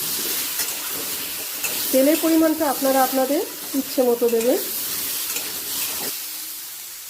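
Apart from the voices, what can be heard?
potatoes frying with salt in a pan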